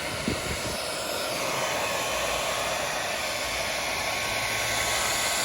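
A hair dryer blows steadily on craft embellishments, a loud, continuous whooshing roar close by that holds an even level throughout.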